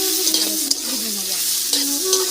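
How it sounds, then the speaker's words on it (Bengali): Ginger and salt frying in a pan while cooking paneer rice, a soft continuous sizzle with a few light stirring clatters, close and moderately quiet. "ভেজে নেবো।"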